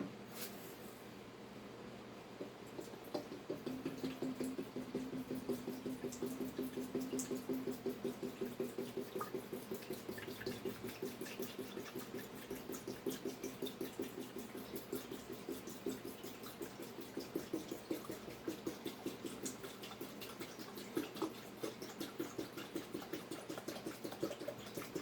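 WD-40 poured from a big bottle onto a motorcycle muffler's bolts, a faint, steady trickling stream of liquid that runs continuously for a long stretch, quiet and close.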